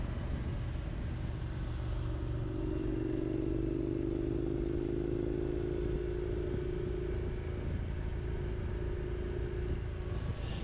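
Motorcycle cruising along an empty country road, a steady loud engine drone with wind rush and a sustained mid-pitched tone that rises and then fades, close and continuous without talk.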